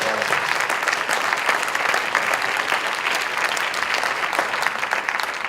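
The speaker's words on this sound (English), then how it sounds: "I want to really just give him a big round of applause for helping bring it together." Steady audience applause fills the room after a talk, dense and continuous clapping from a sizeable crowd, close and even throughout.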